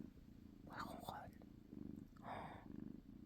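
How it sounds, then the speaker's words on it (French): A cat purrs in a soft, close, rhythmic rumble that swells and fades in regular breaths, while a person whispers quietly over it. "Elle ronronne."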